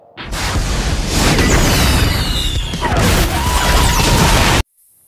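Comedy sound effect of missiles exploding: a loud, sustained roaring blast with whooshing streaks and rumbling debris that cuts off suddenly into silence.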